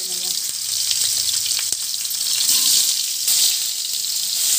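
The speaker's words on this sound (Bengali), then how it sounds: "এবার আলুটাকে লাল করে ভেজে নেব" Potatoes frying in hot oil give a loud, continuous hissing sizzle that swells and eases slightly throughout, with no voices.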